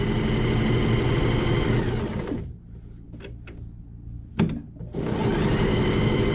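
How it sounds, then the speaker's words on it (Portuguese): A domestic sewing machine, recently cleaned and oiled, stitches a fabric scrap with a loud close mechanical whir. It stops for about two seconds, leaving faint clicks, then starts running again. "Você vai pegar um retalhinho de tecido e vai costurar até essa linha sair seca."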